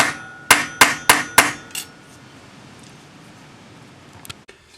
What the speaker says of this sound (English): Now I'm using a French jeweler's hammer for this.